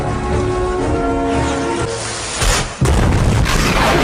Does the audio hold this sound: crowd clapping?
no